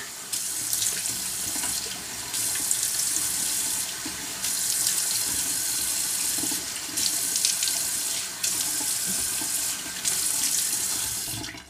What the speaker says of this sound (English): I'm going to rinse that off so that I don't have baking soda on my skin.